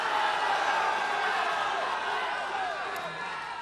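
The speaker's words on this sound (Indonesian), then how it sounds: "silakan Anda pendukung calon gubernur nomor 1 dan nomor 4 boleh memberikan tepuk tangan" Supporters in the audience at a 2018 South Sulawesi gubernatorial debate applaud and cheer, a dense, steady wash of crowd noise that eases slightly toward the end.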